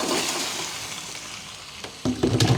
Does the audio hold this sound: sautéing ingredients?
yes